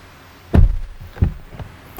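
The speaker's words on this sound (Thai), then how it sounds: "ปิดประตูตึบดีมากเลยอ่ะคุณภาพการผลิต" The door of a Haval Jolion car shuts with one solid, heavy thud close by, followed by a couple of softer knocks.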